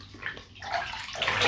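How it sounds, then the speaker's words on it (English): Bath water running out of a tub during a pet grooming session, a brief gurgling, rushing drain sound that builds in loudness, close and alone. "I'm going to take this water out and let it run"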